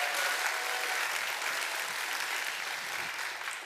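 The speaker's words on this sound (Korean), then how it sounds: "다시 한번 격려의 박수 한번 부탁드립니다" A church congregation at Yeouido Baptist Church claps in encouragement, a soft, even wash of many hands heard from some distance that fades slightly toward the end.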